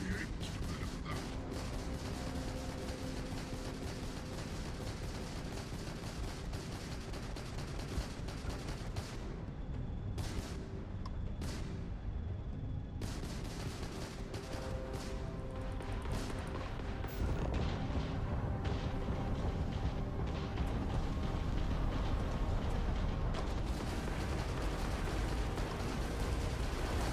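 Sustained gunfire in the sci-fi game Starfield, with dense bursts of shots and booming impacts running almost continuously, loud and cluttered, with brief lulls.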